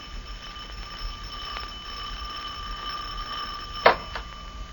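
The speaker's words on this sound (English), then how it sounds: "Don't you ever answer the doorbell?" Doorbell sound effect in an old radio drama, a sharp bright ring that stands out once near the end over a quiet, faintly humming background.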